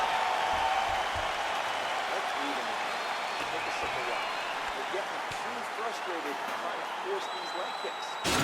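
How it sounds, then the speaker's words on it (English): A fight crowd applauds and cheers after a round, a dense, sustained wash of clapping and crowd noise with some scattered louder claps and a faint murmur of voices underneath. "So the crowd voicing its appreciation after that round."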